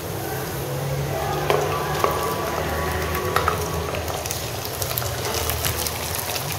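Chicken fries in a pan with golden-brown onions, giving a steady, loud sizzle broken by a few sharp clinks of stirring.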